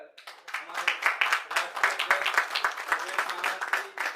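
An audience at a public event applauds its guests with a dense, rhythmic patter of clapping, while a voice speaks over it throughout.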